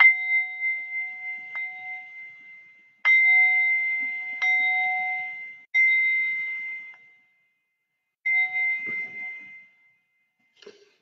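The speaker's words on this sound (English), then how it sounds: "And now I shall bring us back with the bells" Meditation bells ring out in a series of clear, bright metallic strikes, each left to sustain and decay, with pauses between groups of tones and a faint final tap at the end; no voices.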